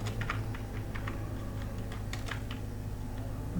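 Typing on a computer keyboard: a quick irregular run of soft key clicks heard close over a low steady hum, with no voices.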